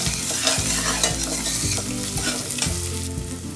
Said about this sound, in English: Add the onions, the spring onions, and mix it well. And saute for another 1 minute or so.